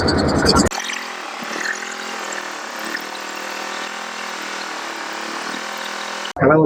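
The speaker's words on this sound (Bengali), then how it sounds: "তো ফাইনালি আমাদের বোট এখানে কিন্তু ছেড়ে দিচ্ছে।" A motorboat engine drones steadily as the boat pulls away from the Kalitala ghat in the Sundarbans, a continuous mid-level rumble with water noise, framed by brief bursts of louder sound at the start and end.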